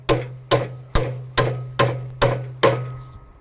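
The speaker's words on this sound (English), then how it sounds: "hammering a nail was the hardest thing to do" Seven sharp hammer blows from a framing hammer on a nail, evenly spaced about half a second apart, each ringing briefly with a low resonant tone, close by and loud.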